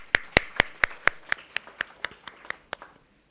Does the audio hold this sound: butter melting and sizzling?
no